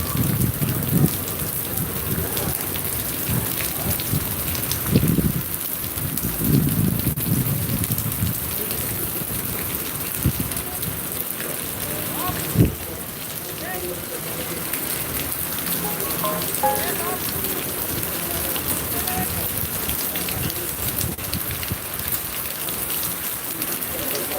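Heavy rain in Zaheerabad drums steadily on surfaces, a dense patter with scattered close drips and a few thuds, loud and continuous, later easing slightly into a softer even fall.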